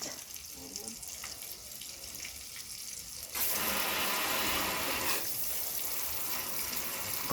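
Water running from a tap while someone washes in a home kitchen, a soft background flow that turns into a loud, steady gush partway through and continues to the end, with no talking.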